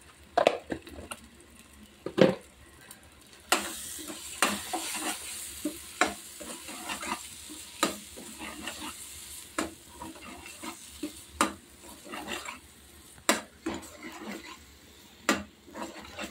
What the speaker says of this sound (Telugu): కొంచెం బఠానీ కొంచెం నూనెలో మగ్గేంత వరకు ఇట్లా తిప్పుకుంటూ ఉండాలి